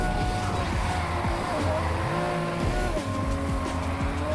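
Racing car in NFS Heat drifting hard, its engine droning loudly while tires squeal in long wavering whines, the engine note dipping and climbing through gear shifts, with no voices over it.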